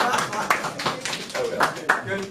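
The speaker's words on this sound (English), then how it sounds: "another round of applause" A small group claps in scattered, uneven bursts during a lunch gathering after a classic car drive, with people talking over and around the applause.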